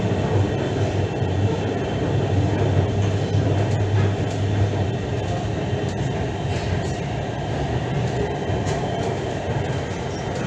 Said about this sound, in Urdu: We are now at Railway Station.